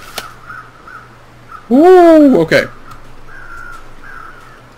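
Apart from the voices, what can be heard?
crow cawing in the video game The Long Dark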